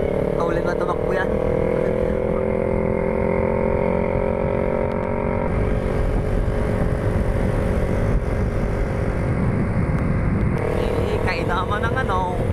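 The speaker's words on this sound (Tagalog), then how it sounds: "At dyan na ilabas natin ating motor ng 400cc. So road test natin kung kaulit na tumakbo yan." A 400cc motorcycle engine runs steadily on a road test, its droning hum sustained and fairly loud throughout, with rushing wind noise over it and small rises and dips in pitch as the bike speeds up and eases off.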